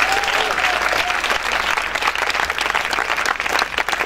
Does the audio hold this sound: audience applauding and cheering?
yes